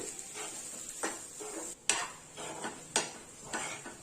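A spoon stirs tempering into raw coconut chutney, with soft repeated scrapes and clinks against the bowl at a steady, unhurried pace, close and fairly quiet, no voices.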